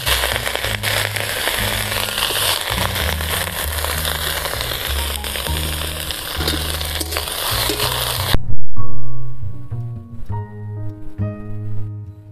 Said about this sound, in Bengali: তেল গরম হয়ে এসেছে, এখন পটলের খোসাগুলো দিয়ে দিচ্ছি।